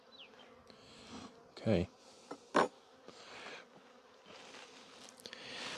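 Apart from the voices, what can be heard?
honey bees buzzing around a hive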